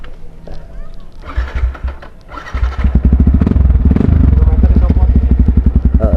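A white Yamaha WR 155 motorcycle starts up after a few seconds of talk and clatter, then runs close by with a rapid, pulsing, throaty engine note as it sets off for a test ride.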